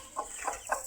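Three short, soft peeping calls from young ducklings being let out of a cage, evenly spaced and fairly faint over low background hiss.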